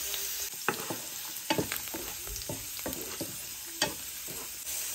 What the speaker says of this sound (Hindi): अब इस पे मैं डालूँगी कटी हुई अदरक, कटी हुई लहसुन एंड इसे 2 मिनट तक सौटे करना है।